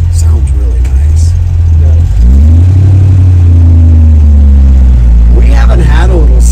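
Small-block 350 V8 in a 1963 Chevrolet Impala, a loud steady rumble that swells as the engine revs around the two-second mark and holds a strong drone, with a person talking faintly near the end.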